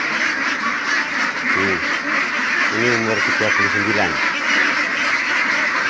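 Ducks on an organic duck farm quack in short bursts of several harsh calls, close and loud, over steady background noise while someone speaks nearby.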